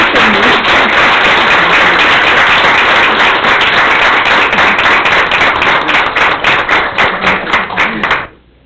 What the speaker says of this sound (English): So will you please stand and give her a big round of applause of thank you.